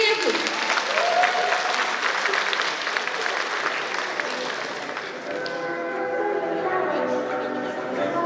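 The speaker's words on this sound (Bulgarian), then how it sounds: "Аплодисменти за него!" Audience applause fills the room at first, then fades as a musical beat takes over beneath it.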